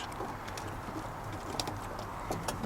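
Young pigeons coo softly in a transport crate alongside faint shuffling and fluttering, a low, quiet murmur with a few brief sharper noises.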